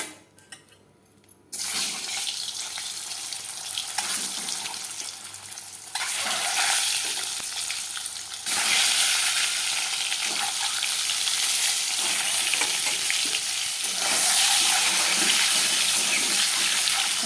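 Turmeric dropped into hot oil in a home kitchen pan sets off steady, loud frying sizzle that starts after a brief quiet moment and grows stronger in stages, running continuously without talk.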